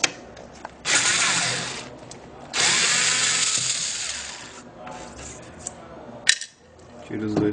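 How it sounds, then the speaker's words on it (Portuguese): Electric screwdriver backing screws out of the side of an HP 1215 ink cartridge, two sustained whirring runs with small handling clicks between them, close up, and a voice speaking over parts of it. "Solta-se esses dois parafusos para tirar."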